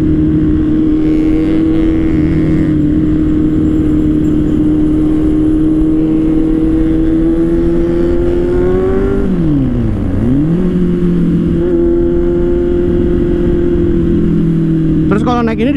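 Kawasaki Z800 motorcycle engine running steadily on a test ride, a loud sustained drone that dips and climbs again midway as revs fall and rise, with a person talking over it throughout.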